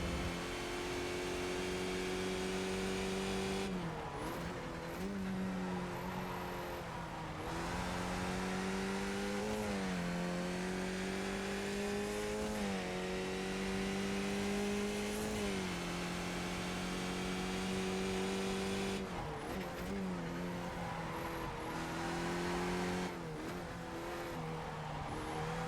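Race car lapping Daytona in a 2008-era racing game on cold tires, engine droning loud and continuous with rising and falling pitch through shifts and corners, occasional brief tire squeal, no talk.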